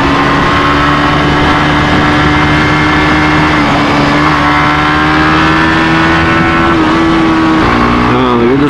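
A Suzuki GSX-S150 motorcycle engine hums loud and steady on a test ride, its pitch climbing gradually and shifting near the end, with strong wind rush throughout.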